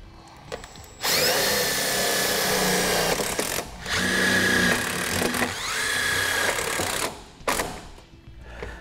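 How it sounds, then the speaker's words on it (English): A power drill drives self-tapping screws into a trailer while a Curt Soft Trac I breakaway kit battery box is mounted: several loud, close whining bursts of motor and screw grind, separated by short pauses, with no talking. "Let's center it up and use the self-tapping screws."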